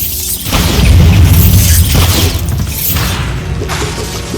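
Bombarda spell blast in Hogwarts Legacy, a loud booming explosion with crashing, shattering debris that rumbles on for several seconds, close and alone without talk.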